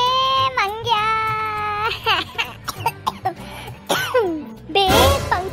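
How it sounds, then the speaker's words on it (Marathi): A man coughs in a comedic sketch with several harsh, raspy coughs and throat clearing mixed with strained vocal sounds, loud and close, bursting out in uneven fits. "तू खोकलून काले राहिला भाऊ?"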